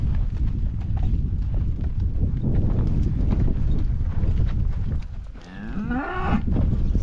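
Cattle moo in a farm pen, a loud drawn-out bellow near the end over steady close rustling and shuffling hooves.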